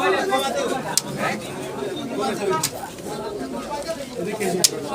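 Pigeons coo and flutter at the busy Saruliya pigeon market, their calls mixed under constant nearby human chatter and conversation.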